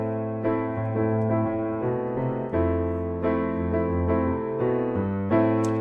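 Piano plays a melodic bass line from a song, low stepping notes in a steady eighth-note rhythm with chords ringing above, clear and alone.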